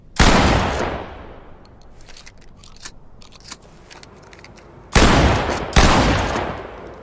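Shotgun blasts in the tactical shooter game Ready Or Not: three loud, close booms, each followed by a long decaying tail, with quieter clicks and rattles in the pause between the first shot and the final pair.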